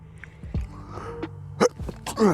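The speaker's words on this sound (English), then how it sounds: "Excuse me, I had to sneeze." A sharp, sudden sneeze bursts out near the end, preceded by quieter breathy sounds and small noises in a quiet room.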